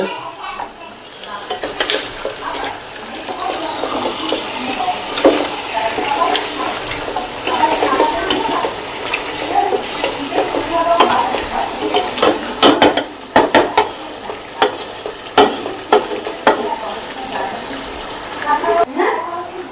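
A desi rooster roast being stirred in a frying pan: a spatula scrapes and clatters irregularly against the metal over a steady low sizzle, with some talk in the background.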